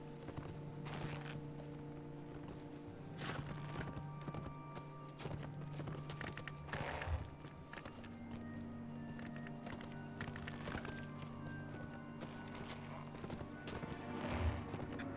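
Hooves of a heavy steed clop steadily in a video game, with a rhythmic hoofbeat running throughout amid other game sounds and occasional faint voices.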